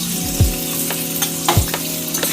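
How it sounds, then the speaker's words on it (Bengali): Ground ginger, green chilli and cumin paste sizzling with potatoes in a pan for a Bengali banana-flower prawn dish, a steady close fry punctuated by a couple of spatula scrapes and knocks. "মশলাটা আলুর সাথে কষিয়ে নিচ্ছি"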